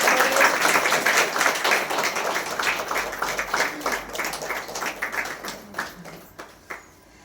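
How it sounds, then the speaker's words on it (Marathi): A seated audience claps together in a brisk, dense burst of applause that gradually loosens into sparser, uneven claps and dies away toward the end. "जरा टाळ्या होऊ."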